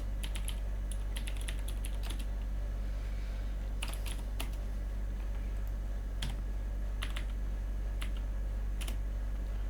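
Typing on a computer keyboard during a coding session: irregular clusters of key clicks with pauses between them over a steady low electrical hum, fairly close.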